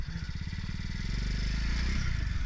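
A 50cc off-road motorcycle engine runs steadily up close, its rapid putter climbing slightly in pitch and loudness as it strains on a slippery trail.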